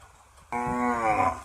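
A Kangayam breed cow lets out one loud, close moo lasting about a second, a steady harmonic bellow rising out of quiet outdoor background with no talking.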